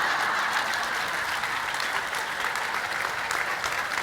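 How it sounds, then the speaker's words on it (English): A large conference crowd of women applauds and cheers continuously, a dense, steady wash of clapping with excited whoops rising throughout, loud and close. "you hear so many women being enthusiastic right here"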